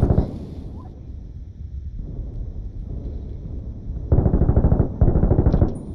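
Rapid automatic gunfire in a combat video game set around Fallujah, low rumbling bursts with two sharp, loud rattling volleys near the end.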